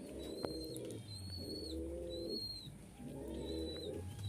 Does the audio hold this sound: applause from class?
no